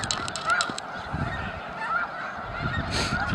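Snow geese honking at the Bosque, a dense chorus of overlapping calls from a large flock close by, with a steady wash of wingbeats and background birds underneath.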